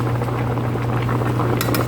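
A pot of water for beetroot pickles bubbles at a rolling boil, a dense steady churning with a low hum beneath and a few light metallic clinks near the end.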